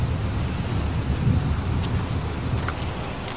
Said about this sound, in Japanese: どうしようか、雨降ってるし。